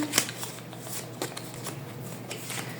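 Playing cards are shuffled close up in a quiet ASMR setting, giving a soft, papery riffle of quick flicks with a few sharper snaps, heard alone.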